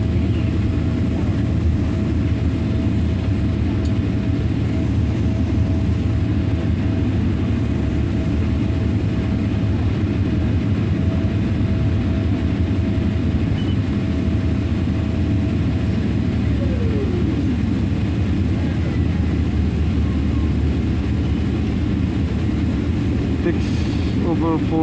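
An airplane landing at a Kuwaiti airport, heard as a loud, steady low engine drone inside the cabin across the whole stretch, with a faint tone sliding down near the end.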